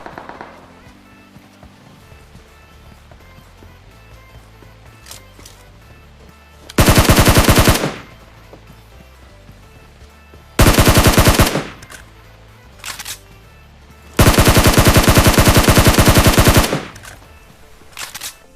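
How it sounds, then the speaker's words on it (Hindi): Gunfire in the mobile battle-royale game PUBG Mobile: three loud, sustained automatic bursts of several rapid shots each, with short gaps of quieter game ambience between them and no talking. "गोली चलने की आवाज आती है"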